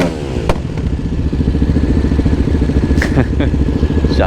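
A supermoto motorcycle being ridden, its engine note pulsing loud and close with rapid firing and a few sharp revs and clattering thumps across the few seconds.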